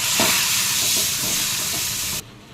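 A tempering of red chilies, curry leaves and asafoetida hits the dal with a loud, close burst of sizzling and crackling spatter that stays strong and then stops sharply near the end.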